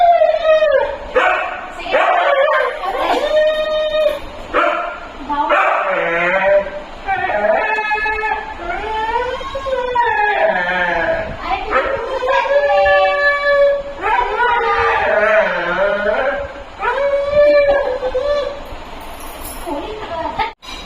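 A puppy yips, whines and whimpers in repeated high-pitched bursts, with short barks and a human voice mixed in.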